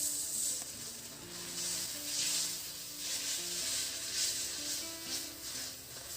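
Water poured into ground turmeric, cumin and chili powder frying in a pan for a katla fish and cabbage dish, giving a loud, continuous hissing sizzle with faint stirring.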